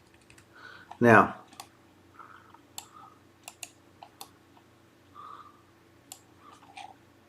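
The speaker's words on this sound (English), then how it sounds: "again, I'm just using the arrow keys on the keyboard" Clicks from computer keyboard arrow keys used to orbit a 3D view, light taps scattered across the span, with one louder burst of sound near the start and a man's brief speech.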